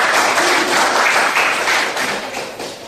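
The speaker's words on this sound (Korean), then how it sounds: "박수 많이 주세요" A university audience applauds a student startup team being introduced at a business presentation, loud dense clapping that stays strong before tapering slightly at the end.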